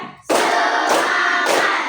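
Children in a classroom clap their hands together in rhythmic bursts before a lesson, three sharp, loud rounds of group clapping separated by brief pauses.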